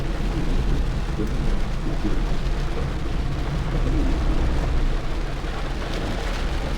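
Heavy downpour during a storm in Daringbadi, a dense continuous roar of rain with low rumbling thunder underneath, loud and steady throughout with no voices.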